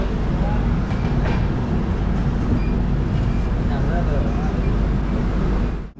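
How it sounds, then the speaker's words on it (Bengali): A passenger train departing Kharagpur on the Shalimar–Puri route rumbles along with a constant low roar and faint rhythmic rattling of the carriages, loud and close, steady from start to finish. "এই যে খড়গপুর থেকে ট্রেন ছেড়ে দিল"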